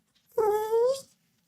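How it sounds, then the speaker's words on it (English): A small dog whimpers and whines in one drawn-out, rising and falling cry lasting about a second, close and fairly loud, with silence before and after. "Run along, little doggy."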